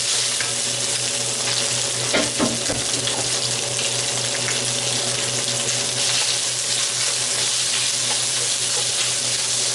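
Steady loud sizzling of garlic stir-frying in a hot wok, with a few clanks of a utensil stirring early on.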